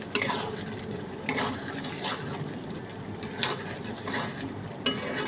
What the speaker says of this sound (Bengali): আলু দিয়ে এটাকে আবারও কষাবো যাতে আলুর মধ্যে মশলাটা ভালোভাবে যায়।